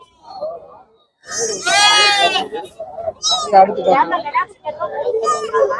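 Young native goats bleat loudly and repeatedly at a busy livestock market, with quavering cries overlapping the voices of people bargaining nearby.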